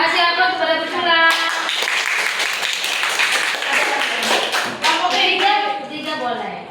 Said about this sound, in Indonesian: Kasih aplaus kepada berculak.